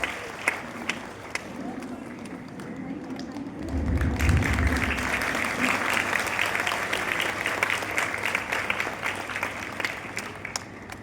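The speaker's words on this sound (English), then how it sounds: "Let us give a big round of applause for her." Clapping from an audience at a youth parliament event, starting scattered and swelling into fuller, steady applause that carries on to the end, heard from within the room.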